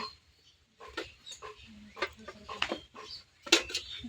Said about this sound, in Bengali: প্লেট রাখো, তারপর বাটি রাখো